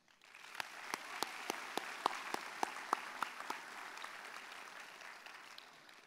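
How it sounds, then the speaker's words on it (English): Graduation ceremony audience applauding friends and family, with a steady wash of clapping from a large crowd and distinct sharp individual claps near the microphone, faint and distant overall, swelling then tapering off. "give your friends and family a huge round of applause"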